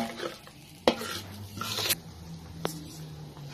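Fermented soybean dip thinned with coconut milk and seasoned with sugar is stir-fried in a pan, with a soft sizzle, scraping spatula strokes and a couple of sharp knocks against the pan.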